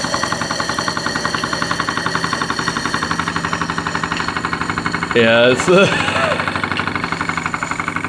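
A PM Research No. 3 model steam engine with a Roundhouse boiler runs with a steady, rapid mechanical chugging throughout, with a brief voice speaking over it midway.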